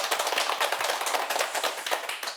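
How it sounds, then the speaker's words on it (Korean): Audience applause for a priest at the close of his lecture on the Book of Revelation: dense, steady clapping from many hands, sustained and fairly loud throughout with no voices over it. "오늘도 시간 가는 줄 모르고 열띤 강의를 들려주신 신부님께 큰 박수 부탁드립니다"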